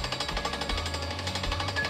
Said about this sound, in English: We have a drill rig here today,